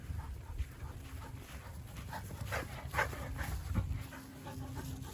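A dog pants steadily while rolling around on the ground, its quick breathy huffs continuing close by for several seconds with a few louder bursts.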